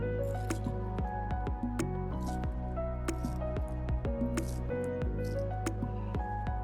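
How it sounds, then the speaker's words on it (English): A knife cuts a mango into small cubes, making a run of soft, quick, squishy slicing strokes close up over steady background music. "I like to cut them first vertically and then horizontally, and then they become little cubes"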